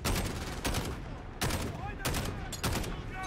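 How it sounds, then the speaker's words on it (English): Call of Duty Modern Warfare (2019) gunfire: dense, loud bursts of rapid shots with sharp repeated cracks, continuous through the short clip with a busy battle din underneath. "I am totally shooting that guy"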